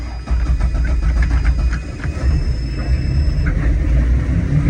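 A boat engine turns over on the key and settles into a loud, steady low rumble that runs without a break.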